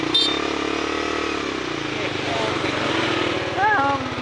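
A brother's motorcycle being ridden along a road, its steady engine drone running close and continuous, with a brief rise in pitch near the end and faint voices underneath.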